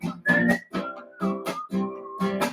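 A melodic whistled tune, clear tonal notes in short phrases with brief gaps between them, close and fairly loud.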